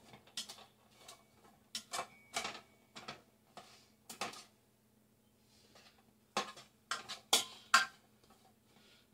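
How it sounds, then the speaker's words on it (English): Cut-up hog jowl frying in a pan for a New Year's Day mess of greens, with clear, sharp clicks and scrapes of a utensil against the pan coming in irregular bursts over a faint, steady background. "now that the hog jowl is starting to fry up, it's basically like bacon"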